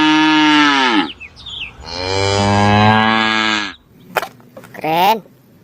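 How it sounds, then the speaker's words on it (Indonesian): A cow gives two long, loud, drawn-out moos close by, followed by a shorter call, with some faint clatter between them. "Seekor lembu."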